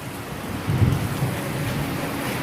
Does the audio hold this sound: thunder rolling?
yes